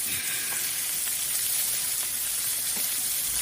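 Steak searing in a hot pan, a steady close sizzle and crackle of fat running continuously with faint stirring pops, no voices over it.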